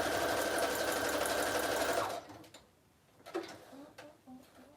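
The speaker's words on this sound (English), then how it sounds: "I'm just sewing real quick along the top and bottom." Sewing machine stitching along the top and bottom of a paper junk journal pocket, a loud steady whirring run for about two seconds that stops abruptly, followed by a few faint clicks and handling sounds.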